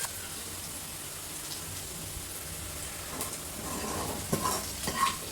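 Onions or spices with turmeric sautéing in a pan for a Tamil curd pachadi, a steady soft sizzle with occasional stirring scrapes growing a little louder near the end.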